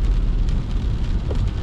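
Rain heard from inside a car driving through Parkano, Finland: a loud, steady wash of rain and road rumble with a low, continuous roar and no voices.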